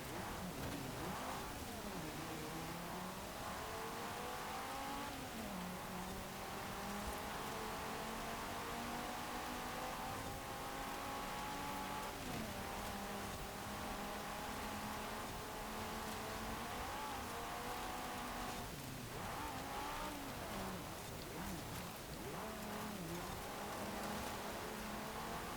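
A classic rally car engine in Forza Horizon 4 drones steadily for the whole stretch, pitch rising and falling through gear changes and throttle shifts under a constant wash of road and wind noise.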